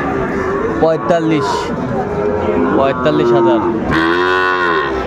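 A young Sahiwal bull calf lets out several loud, drawn-out moos close by, the last one long and deep, with people talking faintly in the background.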